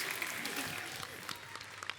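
A studio audience on a comedy talk show claps in a steady, dense burst of applause that is fairly faint and lasts about two seconds.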